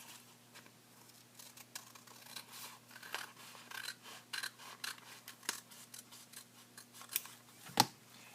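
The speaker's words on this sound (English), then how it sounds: "I can just trim off that part right there." Scissors trim origami paper up close, a quick run of small crisp snips and paper rustles that grows a little busier, ending with one sharper knock.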